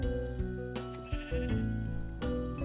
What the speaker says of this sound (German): Da haben wir ein Schaf.